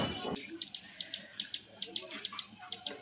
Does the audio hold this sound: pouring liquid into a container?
yes